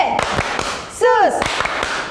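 The children's church clapping game "Tepuk Yesus" brings a handful of crisp, close claps in an uneven rhythm, broken by a short sung phrase.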